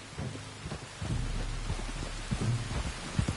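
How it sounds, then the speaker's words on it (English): Steady rain hisses in Red Dead Redemption 2 beneath low rumbles and soft thuds, with a broad swell of rumble around the one-second mark; the downpour stays moderate and continuous. "You were right about the damn rain."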